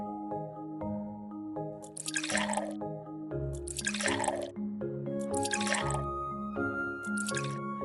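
A satisfying video game plays liquid pouring as soft, bubbly glugging drips in four short bursts over gentle tonal music, quiet and even.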